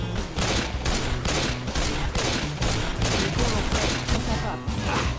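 Rapid sustained gunfire in the video game Left 4 Dead 2, loud automatic bursts in a fast rhythm with occasional short gaps, and faint voices underneath.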